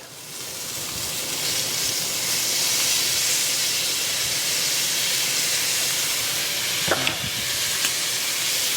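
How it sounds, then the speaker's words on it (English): Minced garlic sizzles in a hot skillet with a continuous loud frying hiss, a couple of brief clinks of a utensil stirring near the end. "we're now going to add 4 teaspoons of minced garlic"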